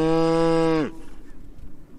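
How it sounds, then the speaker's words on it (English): A cow lets out one loud, close moo that cuts off abruptly, followed by quiet outdoor rustling in rural Australia along a cycle tour route. "Hello, cow."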